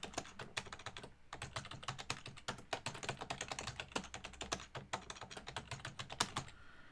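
A password is typed on a computer keyboard in rapid bursts of crisp, close key clicks with brief pauses between runs, no talking.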